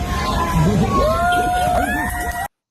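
A lecture audience of about 137 students cheers and whoops loudly and steadily for a couple of seconds, with shouts rising over the crowd noise before it cuts off abruptly.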